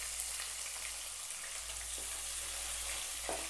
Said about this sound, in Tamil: கடுகு, உளுத்தம் பருப்பு, கடலைப்பருப்புல நல்லா பொரிஞ்சு வரட்டும்